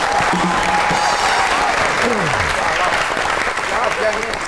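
Studio audience applause welcoming a guest on the Pakistani comedy talk show Tanz o Maza: loud, sustained clapping filling the room while a host's voice speaks over it.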